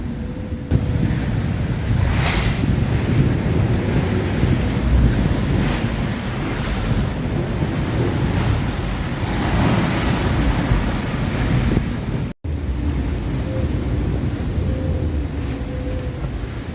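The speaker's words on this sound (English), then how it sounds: "every time a wave hits the boat, it washes the back end of the boat right around" Strong 35-knot wind roars across a sailboat's microphone in open Gulf water while waves surge and wash against the hull in a continuous loud rush, with periodic swells building and breaking.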